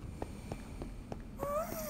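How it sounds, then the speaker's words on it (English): A cat in Minecraft making soft, rhythmic purring pulses close by, followed by a brief higher meow-like tone, quiet and alone. "That's a cat."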